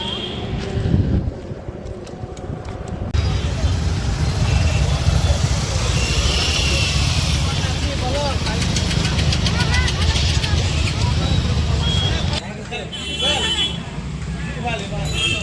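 Busy road traffic on a roadside route, with steady engine rumble and wind buffeting the microphone throughout, occasional passing vehicles, and people talking over it.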